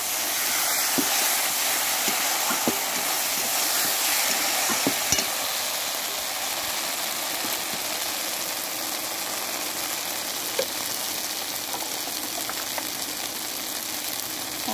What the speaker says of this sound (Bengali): দেখুন খুব সুন্দরভাবে দেখুন মশলাগুলো ভাজা হয়ে গেছে, দেখুন তেল ছেড়ে দিচ্ছে